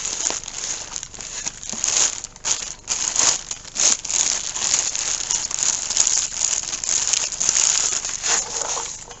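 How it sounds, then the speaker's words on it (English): A GT35 turbocharger is pulled out of a plastic bag, giving loud, close, continuous crinkling and rustling that rises and falls for several seconds with no talking. "Take it out of the bag."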